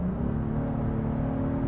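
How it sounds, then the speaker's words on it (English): A 2022 Honda Passport Trailsport accelerates at highway speed, heard from inside the cabin as a steady, rising engine drone over constant road rumble. "You do hear a little bit of the engine noise coming into the cabin"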